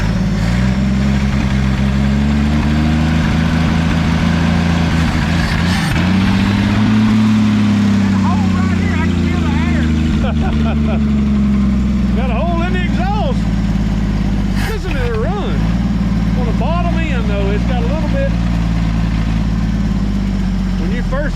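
A 1964 Chevrolet Biscayne engine, just started after sitting for years with a failing fuel pump, idles with a steady low rumble throughout, its pitch rising and falling slightly, under intermittent talk.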